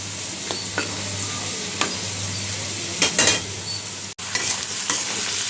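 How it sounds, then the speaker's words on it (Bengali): Spice paste for a prawn curry stir-fried in a pan, with a steady loud sizzle and a few sharp scrapes and knocks of a spoon or spatula against the metal, no talking. "তো মশলাটা আমি একটু ভালো করে ভেজে নিলাম।"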